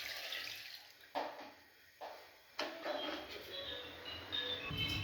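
Water is poured and mixed into a bowl while making homemade butter, giving a soft, faint splashing and trickling with a few brief knocks.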